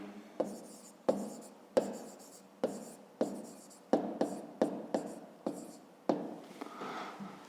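A pen scratches across paper while someone works through a math exercise, making a series of short, close, sharp strokes in an irregular rhythm, with faint soft sounds between them.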